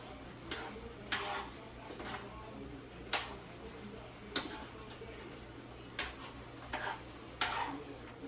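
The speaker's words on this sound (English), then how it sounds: "And then I stir this bad boy on." A spoon stirring stewed chicken in a pot, with soft, irregular clinks and taps against the metal about once a second over a quiet background.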